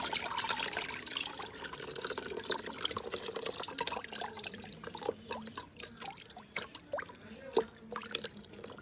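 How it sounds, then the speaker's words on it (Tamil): Water drains and drips from freshly made homemade paper pulp, a steady wet trickle with irregular drops and splashes growing more distinct toward the end, fairly quiet and close. "தண்ணி நல்லா வடிகட்டிக்கோங்க."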